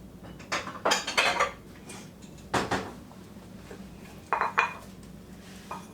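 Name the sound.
mixing taco seasoning sauce in a small dish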